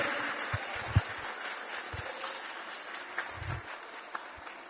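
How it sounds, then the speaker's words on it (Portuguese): Church congregation applause during an evangelical service, a soft diffuse clapping wash with a few sharper individual claps standing out over a continuous crowd murmur. "dê uma salva de palmas"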